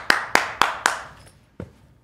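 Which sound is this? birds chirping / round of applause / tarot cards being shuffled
round of applause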